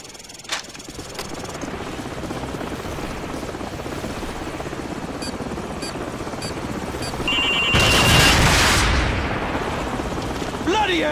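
Military helicopter in the Call of Duty 4: Modern Warfare video game, a constant heavy rotor thump and engine drone with gunfire cracks and a loud surge near the end.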